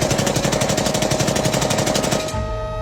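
A fast, steady burst of automatic gunfire rattles loudly for about two seconds, then stops abruptly with a short fading tail.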